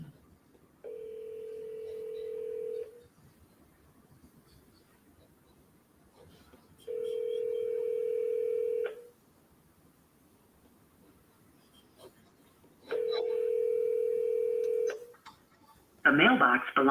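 Telephone dial tones sound three times, each a steady two-second tone separated by silent gaps, with a brief burst of other noise at the very end.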